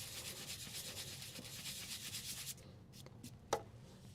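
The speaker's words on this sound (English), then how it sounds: "A little bit of random orbit hand sanding." Brisk back-and-forth hand sanding on a cypress wood hollow form, steady and close for a few seconds, then stopping with a few light taps and a knock.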